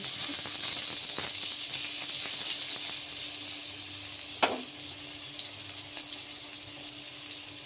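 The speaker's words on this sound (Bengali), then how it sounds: "এইভাবে 2 পিঠ ভালো করে ভেজে তুলে নিতে হবে।" Eggplant slices fry in oil with a steady, bright sizzle and a single sharp clink partway through, with no voices.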